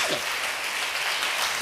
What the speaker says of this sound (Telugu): చప్పట్లు కొట్టండి కొంచెం గట్టిగానండి